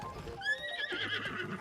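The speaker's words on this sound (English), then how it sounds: "Horse says no." A horse in the video game Zelda: Tears of the Kingdom gives a sharp, high neigh, a whinny that rises and shakes before trailing away, close and fairly loud.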